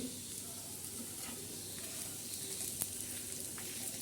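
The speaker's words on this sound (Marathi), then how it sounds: "आता खोबरं मी भाजत आहे" Coconut roasts in a pan for black masala, producing a soft, steady sizzle and crackle with occasional light ticks, quiet and close with no speech.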